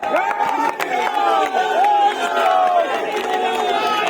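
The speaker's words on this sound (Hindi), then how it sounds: "हमारे प्रत्याशी रामवीर विधुड़ी जी के लिए जोर से ताली बजाओ जरा।" Large crowd at an outdoor political rally in Sangam Vihar, Delhi, cheers for a candidate, a loud, continuous mass of shouting and whooping voices with rising and falling calls, close and energetic throughout.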